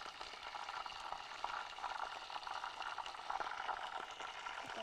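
Oil popping and bubbling in a cooking pot on a stove, a steady quiet hiss with scattered small crackles and spits, fairly faint and continuous with no talk.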